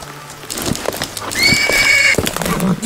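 A horse in the Edgar Allan Poe video game The Oval Portrait gamebook gives one loud, clear whinny in the middle, amid scattered soft thuds and light hoof-like knocks.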